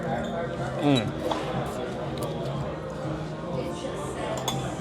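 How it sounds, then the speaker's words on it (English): A fork and knife clink against a plate during a meal of Chicago pizza, making a few light metallic taps beneath steady, overlapping conversation close by. "I'm gonna use this fork and knife"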